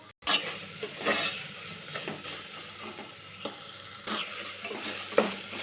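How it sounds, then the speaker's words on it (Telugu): Ginger garlic paste frying in a pan for a chicken pulao, a steady close sizzle with repeated scraping and stirring strokes of a spoon against the pan, no talking. "ఇప్పుడు అల్లం వెల్లిపాయ పేస్ట్ వేగిపోయింది వేగిందండి"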